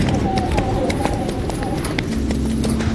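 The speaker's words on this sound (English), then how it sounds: "We're traveling by horseback on the Peekaboo Loop Trail," Horses' hooves clip-clop steadily on the Peekaboo Loop Trail in Bryce Canyon during a horseback ride, near and continuous under a voice talking.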